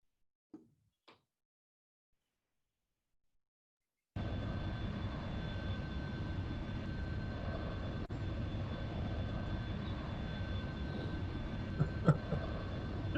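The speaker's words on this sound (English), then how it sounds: "Plane is going down!" Airplane cabin engine drone in a comedy sketch, a steady loud roar starting abruptly after a few faint knocks and holding level for about nine seconds with a couple of small clicks.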